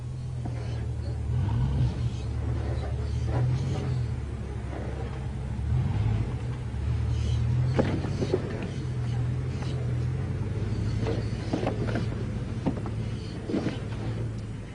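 Camel Trophy off-road vehicle crawling slowly over obstacles, a steady low engine rumble with occasional knocks and creaks from the suspension, close by and moderately loud.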